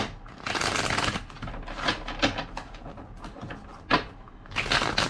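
Tarot cards being shuffled in quick riffling bursts, several crisp flurries with short pauses between them, close by.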